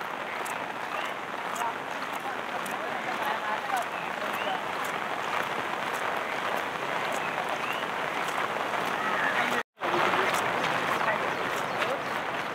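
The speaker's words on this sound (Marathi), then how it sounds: "परत मुसळधार पावसाला सुरुवात" Heavy monsoon rain pours down steadily over a flooded village, a dense even hiss that continues almost unbroken for the whole stretch.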